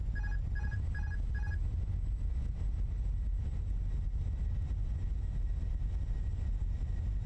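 Thrust reversers roar on a Fenix airliner just after landing in a flight simulator, giving a loud, steady broadband rush of engine noise. Four short electronic beeps sound near the start, and no voices are heard.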